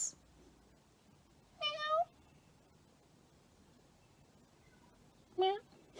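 Two separate cat meows, a couple of seconds apart, loud and close against a quiet background.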